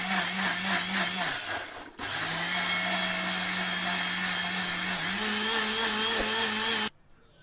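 An electric blender runs loud and steady, churning papaya, milk and ice cubes into juice. The motor whirs continuously with a brief dip in pitch near the start, then cuts off abruptly just before the end.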